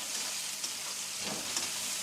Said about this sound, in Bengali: টমেটো কুচিটাও পেঁয়াজের সঙ্গে ভাজা হবে